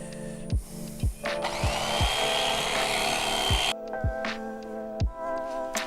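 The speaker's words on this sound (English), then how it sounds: "I use an electric fillet knife." An electric fillet knife buzzes steadily through speckled trout for a few seconds, a sustained whining drone broken by soft thumps and knocks, then stopping as handling clatter continues.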